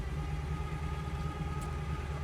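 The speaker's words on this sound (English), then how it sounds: "listen to how we're idling" A 1967 Chevrolet Camaro engine idles smoothly and evenly, a steady low rumble heard close up and alone, without roughness or exhaust pops.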